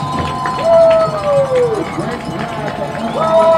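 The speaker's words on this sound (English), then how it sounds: "Phil Browning Stadium at its loudest this season tonight" The crowd at Phil Browning Stadium cheers loudly at a high school football game as a sustained roar, with whistling and a commentator talking over it.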